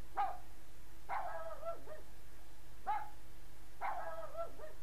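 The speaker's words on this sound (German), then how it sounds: "Ich höre doch den Hund." A dog barks in a few short, separated bursts within the Rule of Rose video game, fairly close against a quiet steady hum, with no voices.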